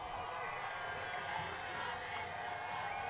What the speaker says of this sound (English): You can hear that Ottawa crowd. They're getting loud